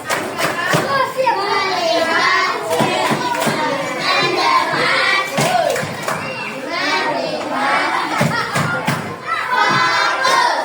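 A group of children clap sharply in a rhythmic pattern, mixed with lively chanting and shouting voices close by.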